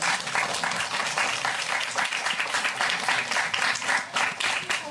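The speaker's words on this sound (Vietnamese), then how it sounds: "Vậy thì xin một cái tràng vỗ tay các bạn cho chúng ta" A room of Beatles fans at an offline club meeting breaks into loud, close, continuous applause, a dense crackle of many hands clapping for about five seconds without voices on top.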